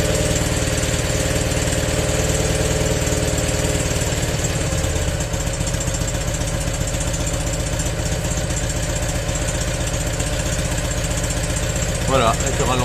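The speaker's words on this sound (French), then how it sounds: "Elle tient super bien le ralenti." The air-cooled twin of a Citroën 2CV Type A idles steadily and loudly close up for the whole stretch, with an even, knocking chug at a smooth tickover.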